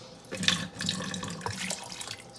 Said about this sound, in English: I'm going to add a quart of water